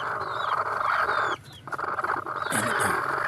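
A laying hen clucks and squawks while being handled, close and fairly loud, with a short pause in the middle before the agitated calls resume.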